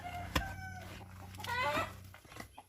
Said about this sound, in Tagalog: Sabaan kayo mga manok diri.